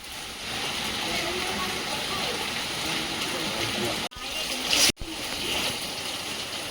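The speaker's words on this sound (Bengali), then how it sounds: "এখন একদম টানা বৃষ্টি হচ্ছে বাইরে" Steady rain pattering outside, a continuous wash of drops with brief interruptions and faint voices in the background.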